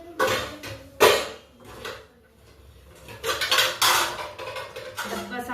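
Metal container handled in a kitchen while making dhokla, with several clattering clanks and scrapes of metal on metal, close and uneven, with quieter pauses between.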